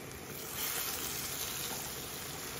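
Under a lid, fried pabda fish in a simmering pan hiss with a constant, even sizzle, soft and close with no breaks.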